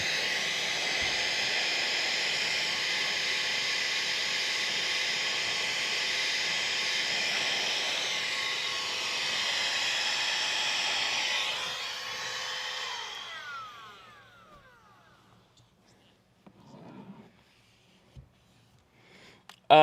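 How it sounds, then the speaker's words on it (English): A small handheld air blower used during ceramic window tint work on a Ford F150 runs with a loud, steady whoosh for about thirteen seconds, then winds down to quiet with a few faint knocks. "This is just a little air blower. It's like using compressed air. Like using an air gun, basically is what it is."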